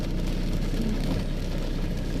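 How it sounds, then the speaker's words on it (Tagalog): Heavy rain pours down steadily during a typhoon, a dense, unbroken roar that stays close and constant throughout, with no talking. "napakalakas ng ulan ngayon, may bagyo na naman po"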